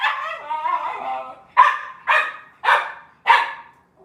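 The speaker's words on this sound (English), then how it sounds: "she's ready to start barking to say goodbye" A dog gives a short whimpering whine and then four sharp, loud barks at a steady rhythm, close by, saying goodbye at the end of a phone call.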